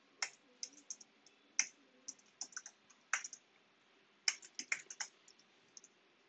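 Quiet, close typing on a computer keyboard, with irregular bursts of crisp key clicks separated by short pauses.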